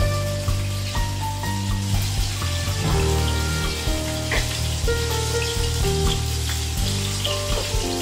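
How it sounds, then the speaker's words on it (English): Steak sears in a hot pan already used to cook mushrooms, giving a dense, steady sizzle and crackle with spitting pops throughout. It is close and fairly loud, with no voices. "We cook the steak in the same pan we cook the mushrooms in."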